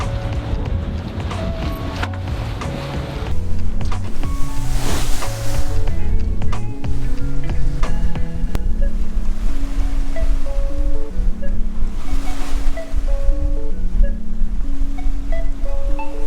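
A sailboat heading out of a channel into rough seas, with loud, continuous rushing water and wind noise that surges stronger after a few seconds, while a melodic tone line runs underneath.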